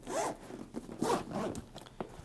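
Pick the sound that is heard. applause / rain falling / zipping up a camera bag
zipping up a camera bag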